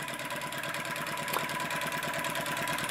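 A scratch-built flame licker engine runs steadily with a fast, even mechanical chugging and puttering, close and continuous throughout with no voices.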